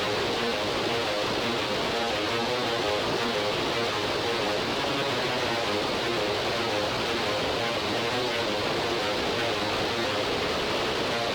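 Electric guitar sample heavily processed with saturation, bit crushing, compression and OTT multiband compression, giving a dense, gritty, noise-like wash that plays steadily and loud throughout with no talking.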